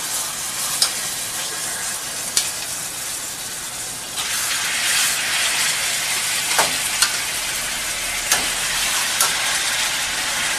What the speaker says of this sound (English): Oh, you know it's hot. You hear them sizzling there.